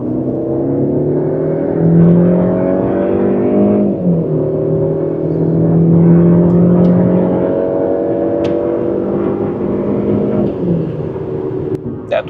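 Mercedes-Benz C180 (2023, base C-Class) accelerating hard from 50 to 130 km/h, its engine note climbing steadily through gear shifts heard as brief dips, with road and wind rush building underneath and someone talking over it.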